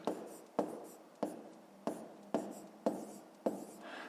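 Seven crisp, evenly spaced strokes scratch across a board as figures are written out for a fifth-grade math exercise, each mark starting sharply and trailing off, with no talk in between.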